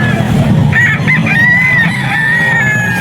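A tambulik rooster crows at a busy pet market in Bocaue, the bright, drawn-out call loud and close over low crowd murmur and background chatter.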